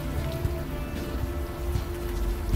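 Steady rain pours in a city street scene in the adventure game Unavowed, a continuous dense hiss and patter at an even level, with a faint sustained tone beneath it.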